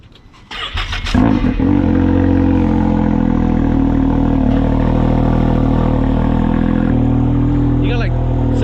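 A loud vehicle engine on the Mean Machine, which has a faulty primary clutch, starts up and settles into a steady, heavy droning idle close by, with brief voices over it.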